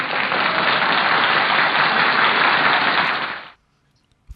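A hand clap sound effect played as a dense, loud burst of clapping lasting about three and a half seconds, then fading sharply to silence.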